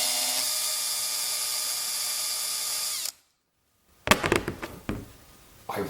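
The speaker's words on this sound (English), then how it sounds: "When you're using a countersink in plastic, you want to favor more pressure," A drill with a countersink bit cuts into white plastic, giving a steady high whir for three seconds, then stops, followed by a few close clattering knocks as the work is handled.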